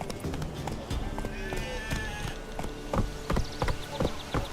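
Hooves gallop in a steady clip-clop rhythm across open ground in The Witcher 3, fairly close and clear, with a voice urging the horse on over the top.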